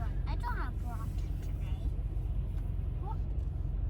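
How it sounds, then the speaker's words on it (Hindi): Heavy London road traffic rumbles steadily as a low, continuous engine drone, with faint voices and brief tonal sounds drifting over it. "ये देखें ट्रैफिक का आलम, कितनी ट्रैफिक है।"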